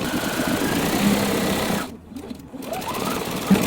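Sewing machine stitching the seam of a half-square triangle quilt block, a steady close whirring run that pauses briefly partway through, then resumes.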